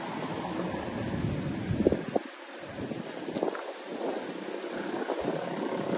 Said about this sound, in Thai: ลมแรงมากจะพัดคนปลิวอยู่แล้วพี่น้องจ๋า